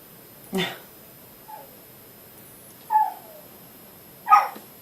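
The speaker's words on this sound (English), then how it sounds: "my dog's out in the hallway whining at me" A dog out in a hallway whines in short, separate bursts, three or four thin whimpers spaced a second or more apart, fairly faint and heard from a distance against a quiet room.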